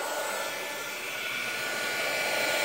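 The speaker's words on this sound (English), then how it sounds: "it's going to get noisy because I'm going to turn on my embossing gun." Embossing heat gun blowing hot air, a steady loud whooshing fan noise held close and unbroken for a few seconds with no voices.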